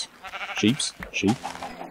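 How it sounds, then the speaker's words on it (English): Two short bleats from a sheep being punched in the Minecraft video game on Xbox 360, each one a quick nasal cry, heard alongside a voice. "Punch a sheep instead. When you punch sheep,"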